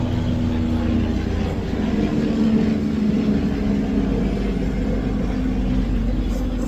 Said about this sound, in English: a plane's going by